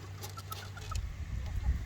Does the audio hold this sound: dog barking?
no